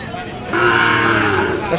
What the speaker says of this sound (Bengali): এর পাশেরটা এটা কিন্তু সাইওয়াল ষাঁড়